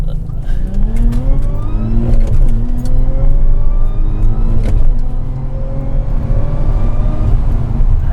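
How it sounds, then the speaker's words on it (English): A supercharged 440 whp Audi S4 with a six-speed manual revs hard through several rising gear pulls, with a whining supercharger over a loud, continuous roar. "That's pretty quick, and I love that supercharger line. It's loud."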